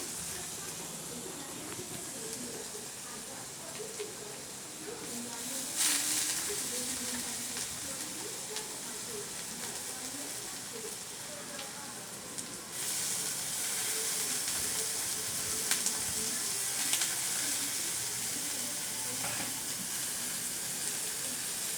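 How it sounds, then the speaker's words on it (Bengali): Steady, soft sizzling of finely chopped potatoes frying with onions in a pan, a continuous hiss that swells slightly partway through, with a few faint clinks. "এবার ওই পেঁয়াজ ভাজার মধ্যে আমি জিরি জিরি করে কেটে রাখা আলুটা দিয়ে দিলাম"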